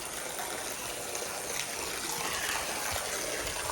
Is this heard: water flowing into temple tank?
yes